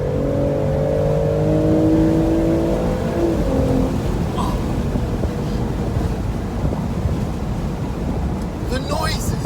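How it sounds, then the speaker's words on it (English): A 2020 BMW Z4 M40i accelerates hard with turbo whistle, intake roar and exhaust growl, a rising engine note under strong wind buffeting from the open roadster cabin. "The noises, all the noises are perfect. The turbos, the intake, and then behind you, the exhaust."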